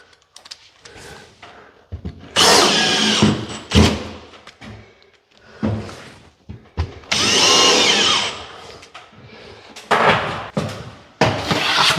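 A power drill drives screws into plasterboard in several short, loud bursts of whirring, separated by quiet pauses, knocks and handling sounds close by.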